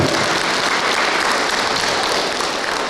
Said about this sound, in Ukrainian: Оплесками давайте привітаємо.